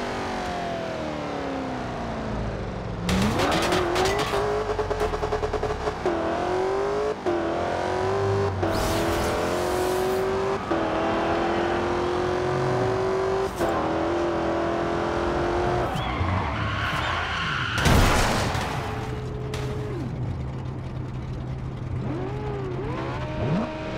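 A McLaren P1 in the racing game Forza drives with a continuous high engine whine that climbs through gear shifts, broken by repeated tire squeals and skids, loud and close throughout.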